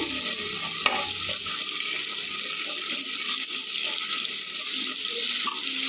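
Two chopped onions frying in oil with mustard seeds for a lady finger (okra) palya, a bright, even hiss of frying carrying on throughout, with one sharp click near the start and faint stirring scrapes, no talking.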